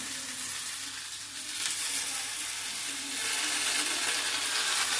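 Note shak greens land in a hot pan with vegetables, and a broad hissing sizzle swells and grows louder over a few seconds, steady and close with no talk.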